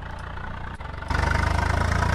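A tractor engine idles and runs in the Farming Simulator 22 video game, a steady low mechanical drone that jumps louder and harsher about a second in, with no voices.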